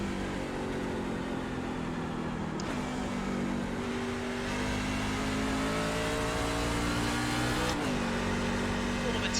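NASCAR trucks race at New Hampshire in a video game, with a continuous loud engine drone that rises and falls as the throttle changes through the corners. A sharp gear shift cuts in twice, and someone talks over the engines.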